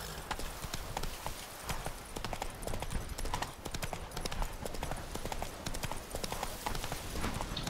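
A horse's hooves clip-clop steadily in The Witcher 3: Wild Hunt, a close, continuous rapid trot over a wash of ambient noise, with no talk.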